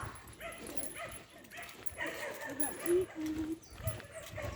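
A dog whimpers and yips in short bursts, fairly close, with some high-pitched whining between the yelps.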